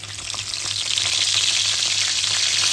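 Curry leaves crackle and sizzle in hot oil in a pan, a steady loud frying hiss with no talking, prepared for a village-style mutton rassa.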